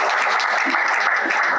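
Dense, sustained applause from a large crowd at a grand film production event, steady and loud throughout with no pauses or individual voices standing out.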